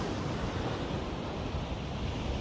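Ocean surf washing onto a beach between Santa Cruz and San Francisco, a broad, steady hiss of breaking waves mixed with wind buffeting the microphone, fairly quiet and unbroken.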